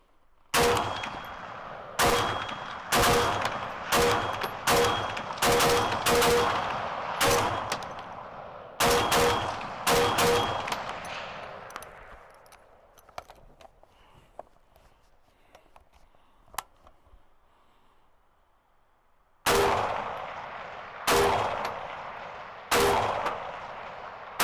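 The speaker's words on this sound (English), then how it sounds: "get my BRN-10A out to the range and put some rounds through it" A Brownells BRN-10A retro AR-10 rifle fired at an outdoor range: loud, sharp gunshots in quick strings of several rounds, each ringing briefly, with a pause of quiet before a final volley.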